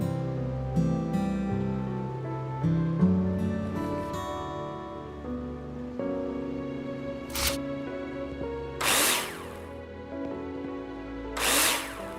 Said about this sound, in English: screw them in with a drill